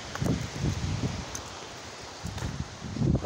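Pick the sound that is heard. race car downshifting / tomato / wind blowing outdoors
wind blowing outdoors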